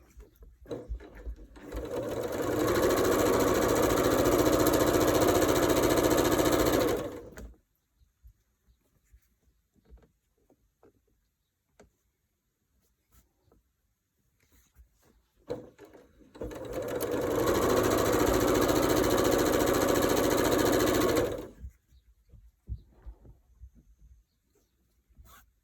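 A sewing machine stitches a quilt block in two loud, steady runs of about six seconds each, separated by quiet handling of the fabric.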